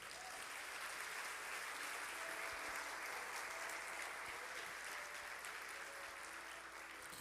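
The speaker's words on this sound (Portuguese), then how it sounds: "Você pode aplaudir a Jesus?" Sustained applause from a large crowd at a church service, steady and dense clapping filling the whole stretch, heard from a distance.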